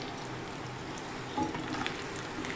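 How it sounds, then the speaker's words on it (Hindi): Onions frying in leftover oil for a kadhi tempering, a steady close sizzle and crackle throughout with a brief louder stir partway through, no talking. "प्याज को खूब अच्छे से फ्राई कर लेना है, कच्चापन ना रहे।"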